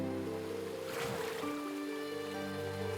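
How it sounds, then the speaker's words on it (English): A video game character wades into water, with a soft swish of splashing over a steady ambient game soundscape of low tones and sustained music-like hums. "so into the water we go"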